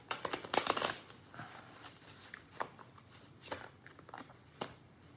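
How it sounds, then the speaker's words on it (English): Tarot cards being shuffled by hand, a dense papery riffle burst at the start followed by scattered softer slides and flicks, close and fairly quiet with no talking. "I'll just shuffle them and read them in order"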